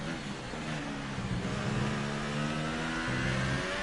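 A Formula 1 car engine in the racing game F1 2018 revs at a high, steady whine that rises and falls slightly under load, loud and continuous for about four seconds with no voices.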